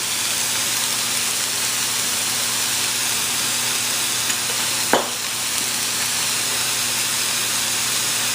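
A chicken stir fry for Singaporean chicken sizzles steadily in a pan, a constant close hiss with one brief clink midway.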